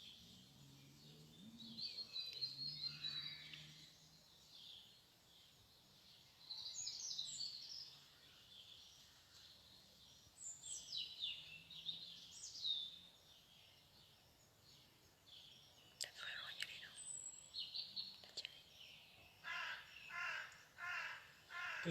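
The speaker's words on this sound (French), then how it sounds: "Petits oiseaux au fond." Faint bird calls and chirps in the outdoor background behind a live home workout session, scattered bursts with quiet gaps and no talk over them.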